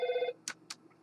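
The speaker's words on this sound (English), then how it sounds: "Nope, got a phone. I'm just going to" A telephone rings with a steady electronic trill that cuts off, followed by two short clicks or taps, heard fairly close in a quiet room.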